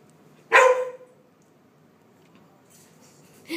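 A Rhodesian Ridgeback pup in a showroom lets out one loud, close bark, followed by a brief, fainter bark a few seconds later, with quiet room tone between.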